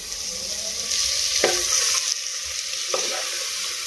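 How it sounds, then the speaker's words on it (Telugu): Marinated prawns coated in salt, chilli and turmeric hit hot ginger-garlic masala in a pressure cooker, giving a close, steady sizzle broken by a couple of sharp scraping clinks. "ఉప్పు కారం పసుపు అవి కలిపి పెట్టుకున్న రొయ్యలను అయితే వేసేసుకోవాలి"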